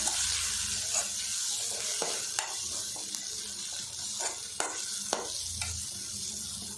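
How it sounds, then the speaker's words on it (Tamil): Chilli, coriander and garam masala powders fry on a low flame for an egg fry, a soft steady sizzle with scattered scraping clicks of a stirring spoon, close and with no talk. "லோ ஃப்ளேம்லேயே 1/2 நிமிஷம் நம்ம ஃப்ரை பண்ணிக்கலாம்."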